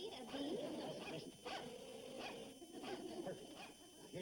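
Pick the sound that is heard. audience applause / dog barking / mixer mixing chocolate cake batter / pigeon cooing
dog barking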